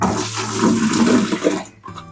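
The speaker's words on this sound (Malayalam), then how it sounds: "ഞാൻ കിച്ചണിലുള്ള വെള്ളമൊക്കെ ഇതിൽ ഒഴിച്ചു കൊടുക്കാറാണ് പതിവ്" Kitchen waste water is poured out of a vessel into a basket set outside, making a loud, steady splashing rush for nearly two seconds before it stops abruptly.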